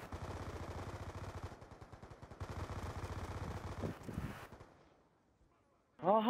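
Rapid automatic gunfire from the video game Black Ops 2 rattles in long, dense bursts with a short pause between them, ending in a few scattered shots before someone speaks.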